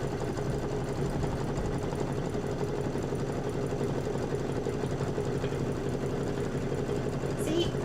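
An embroidery machine stitches out a design in white thread, giving a steady, continuous mechanical hum and rapid needle chatter that runs unbroken from start to finish at close range.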